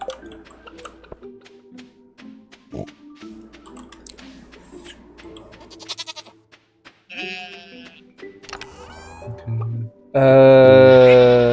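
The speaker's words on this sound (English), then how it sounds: "Man, you were some noisy, fucking noisy ass sheeps." Sheep in the farming game Stardew Valley bleat repeatedly, with scattered calls that build to a loud, close burst of overlapping bleats at the end, alone with no talk.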